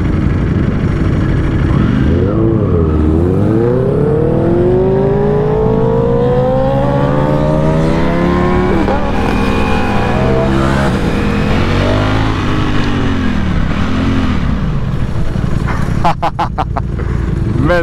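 Superbikes including Ducati Panigale V4 S and Aprilia RSV4 rev hard and accelerate, loud rising and falling engine howls sweeping up through the gears, close and continuous, with a rapid rattling burst near the end.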